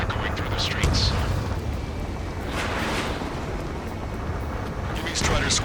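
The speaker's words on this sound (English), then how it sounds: "Gunfire and the roar of jets echoing through the streets." Gunfire and roaring jets echo through a city under martial law in the Ace Combat 7 game. A dense, continuous rumble carries sharper swells of noise near the start, the middle and the end.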